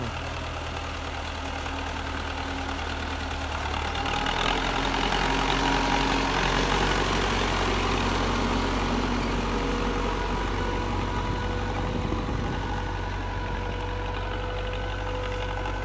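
An old MTZ-50 tractor engine runs steadily nearby with a deep, continuous idling rumble that grows slightly louder partway through.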